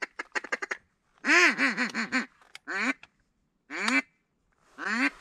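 Black ducks or teal quack near a duck blind on public land in Nova Scotia: a quick run of short calls, then several loud, drawn-out quacks in separate bursts, close and clear with no talking.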